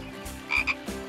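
A small frog gives a couple of short, close croaks in quick succession, each a brief raspy burst over a low background hum.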